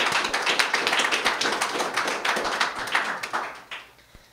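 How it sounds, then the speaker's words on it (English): A live-show audience gives a storyteller a lively round of applause with dense, close clapping that holds strong before thinning and fading out near the end. "if we could get a big round of applause for Kat"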